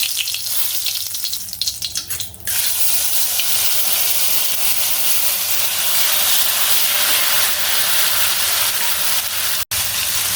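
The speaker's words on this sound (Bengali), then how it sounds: "সবার প্রথমে আমি মশলাগুলোকে সুন্দর করে কষিয়ে নেব।" Ground spices hiss and sizzle in hot oil in a pan, a loud, continuous frying noise close by, with some clattering stirring early on before the steady sizzle takes over for the rest.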